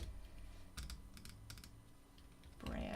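Light typing on a computer keyboard while building a brand style guide in Illustrator, soft clustered key taps over a steady low room hum with no talking.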